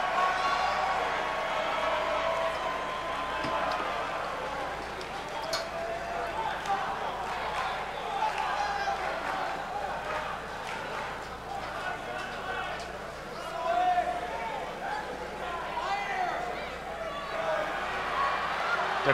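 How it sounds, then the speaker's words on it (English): Wrestling arena crowd at a ladder match, a steady excited roar of cheering and shouting that swells and surges throughout, with a commentator talking over it. "Crowd can't contain themselves here"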